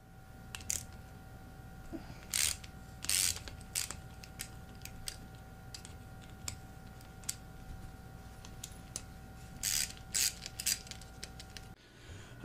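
A ratchet removes bolts from power steering cooler brackets on a 350z, sounding as faint, quick clicking bursts and small metallic ticks spread irregularly over a steady electrical hum, close, with no speech.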